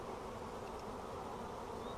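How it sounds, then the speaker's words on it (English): Bees swarm inside a hive box in a bee yard during hive splits, giving a dense, continuous buzzing drone that stays steady and close throughout, with no voices. "Look how many bees are in there, look."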